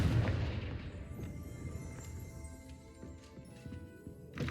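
A Confringo blast spell in Hogwarts Legacy goes off with a single muffled boom at the start, then a quieter rumble and scattered faint clicks.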